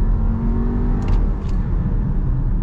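A 2023 VW Tiguan SE accelerates with a steady, loud engine rumble and whir heard from inside the cabin, building evenly over a couple of seconds with no talking.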